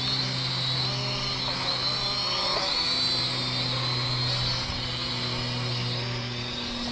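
A Syma X56W foldable drone takes off, its rotors giving a steady high-pitched whine and buzz that holds at an even level throughout, close by and with no talking.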